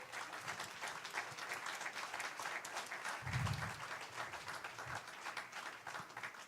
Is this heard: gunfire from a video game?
no